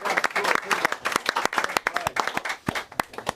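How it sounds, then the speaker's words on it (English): A small audience gives a round of applause to a golfer taking the lead in a televised golf game, uneven separate claps close by, mixed with excited voices talking and calling out. "Give him a round of applause."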